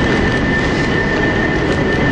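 Steady rumble of a train idling at platform 2 of London Euston station, a broad continuous drone with a thin steady tone above it, filling the whole stretch without pause or talk.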